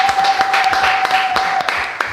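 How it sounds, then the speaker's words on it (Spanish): Studio audience applause on an Argentine talk show, a short dense patter of clapping held steady at close range with a faint voice murmuring underneath. "Este aplauso es para vos, primero que nada."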